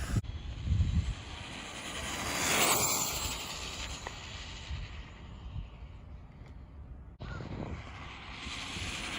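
A Traxxas Bandit RC car with a ZTW ESC, running on a Turnigy Rapid 6000mAh 100C LiPo, makes a high-speed outdoor pass: a faint, distant motor whine swells and fades against wind noise.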